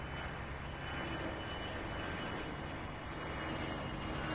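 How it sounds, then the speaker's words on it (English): A propeller airplane drones steadily overhead in Farming Simulator 22, a loud, continuous engine hum filling the whole stretch without any talk. "Oh, here comes that plane."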